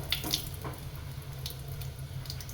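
Water drains from soaked lentils, a close, continuous splashing trickle with a few sharper drips and clinks, fairly quiet and without talk.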